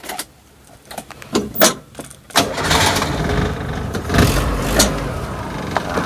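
Suzuki Katana with an F10A engine cranks with a few short starter bursts, then catches and settles into a steady idle close to the microphone, no talking over it.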